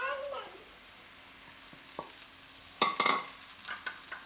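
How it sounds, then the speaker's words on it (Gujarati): Soaked sabudana (tapioca pearls) tipped into peanuts frying in a pan and stirred for suran sabudana khichdi: a soft, low sizzle with scattered scrapes and a brief cluster of louder stirring clatters midway. "હવે એમાં આપણે નાખી દઈશું આ પલાળેલા સાબુદાણા"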